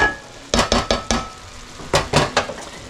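A utensil mixes crumbled ingredients in a bowl for an Italian sauce, two quick bursts of rhythmic scraping strokes with a pause between.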